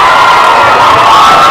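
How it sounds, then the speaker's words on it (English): A dense, loud crowd at a 2016 presidential election night gathering in the Clinton camp cheers and roars steadily, with shouts and whoops blending into a continuous wall of sound. "they're cheering right now"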